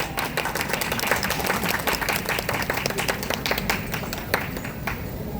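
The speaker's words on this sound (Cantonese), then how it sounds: "人哋俾咁大掌聲你" A large audience claps loudly and continuously for a child performer at a recital, dense overlapping hand claps with a few sharper individual claps standing out, sustained throughout.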